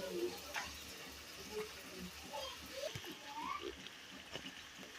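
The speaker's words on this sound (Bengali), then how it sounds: "তো মাংসটা কষাবো ভালো করে।" Chicken pieces sauté in hot spiced oil in a village kitchen, giving a low, soft sizzle with scattered stirring scrapes and faint splatter under some quiet talk.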